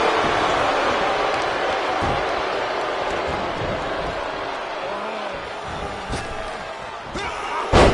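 In WWE 2K25, a wrestler lands a crossbody from the top rope. The impact comes as thuds over a constant roaring arena crowd, with a sharper hit near the end.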